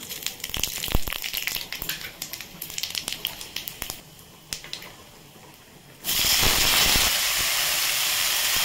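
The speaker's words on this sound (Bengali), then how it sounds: "এখন 5 ফোড়ন দিয়ে দেবো একটুখানি।" Bengali five-spice seeds hit hot oil in a wok and burst into a loud, sustained sizzle near the end, after several seconds of clinking kitchen handling and a short quiet gap.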